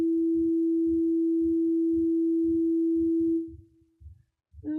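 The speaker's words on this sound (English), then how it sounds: "Now what we're looking at right here is called a sine wave." A pure, steady sine wave tone holds unbroken for about three and a half seconds before fading away, over a faint low rhythmic hum.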